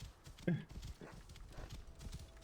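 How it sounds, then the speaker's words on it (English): Horse hooves clip-clop in Assassin's Creed Origins, a short burst of steady hoofbeats at moderate distance, with a brief louder thump near the start over a low game ambience. "Horse."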